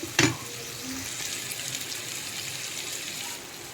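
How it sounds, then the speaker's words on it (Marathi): Tomatoes cook in a pan over a low gas flame, giving a steady soft sizzle close by, with a brief clatter at the start. "टोमॅटोला चांगलं पाच ते सात मिनिट आपण छान एकदम मंद गॅसवर शिजू देणार आहे"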